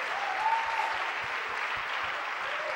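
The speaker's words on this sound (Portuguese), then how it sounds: "Aplauda ao Senhor." Congregation clapping together at a Portuguese-language Sunday family worship service, a dense steady wash of many hands filling the hall, with a voice briefly rising above it.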